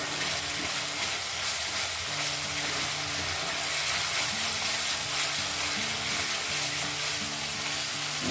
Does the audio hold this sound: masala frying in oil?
yes